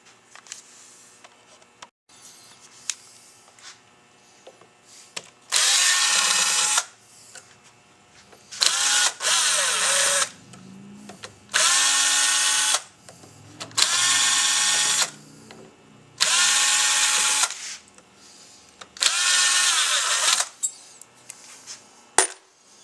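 A power drill backs out six screws from a Studebaker part, in loud bursts of whirring, each lasting about a second or two, separated by quieter pauses with small metallic clinks and handling noise.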